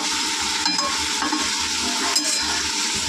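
Food sizzles and fries in a pan as it is stirred, a dense continuous hiss with soft scraping strokes and light clinks.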